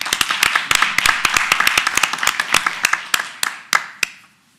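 Round of applause at a school board meeting: dense, lively clapping from a room of people that thins to a few scattered claps before stopping.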